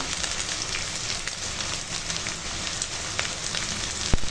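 Ground garlic and ginger paste frying in a pan with soybeans, a dense continuous crackling hiss close by, with a sharp pop near the end.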